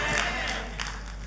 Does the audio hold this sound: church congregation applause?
yes